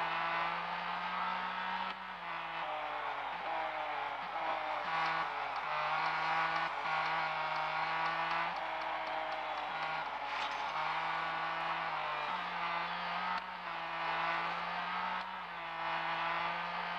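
A 2017 Ford GT engine in Real Racing 3 drones loud and steady at high speed, its pitch shifting with gear changes and throttle lifts, with no talk.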